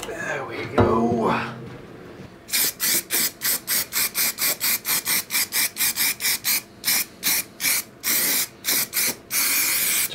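Upol Raptor Liner undercoat is sprayed onto a Jeep XJ tire carrier bumper in a long run of loud, close hissing bursts with short gaps between them, after a brief opening voice.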